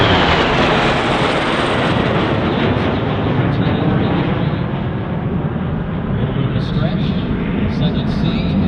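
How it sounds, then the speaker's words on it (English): A Lockheed T-33 Shooting Star jet roars past at an airshow, a loud, sustained broadband rush that fills the whole stretch without letup. "here you have it, a gorgeous jet by its own right, called the Shooting Star"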